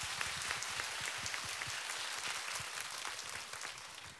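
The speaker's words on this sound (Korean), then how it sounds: "뜨거운 박수 한번 부탁드릴게요." Warm, sustained applause from a concert audience as a composer and actors come onstage for a Q&A, many hands clapping in an even wash that fades slightly at the end.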